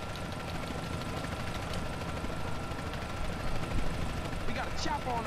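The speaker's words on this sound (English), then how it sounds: "We got a chopper on our tail." A pursuing helicopter in Grand Theft Auto: San Andreas – The Definitive Edition gives a steady, droning rotor and engine hum that continues throughout, with game voices talking over it.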